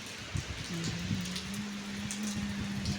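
Heavy nighttime rain pours down in Noida, India, as a dense, constant patter with a few sharper drop hits, while a low steady hum runs beneath it.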